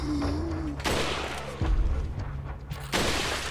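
Gunshots in Resident Evil 4's garden maze: a few sharp, loud blasts spaced apart over steady game ambience, with no talk.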